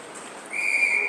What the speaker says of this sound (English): We got a whistle.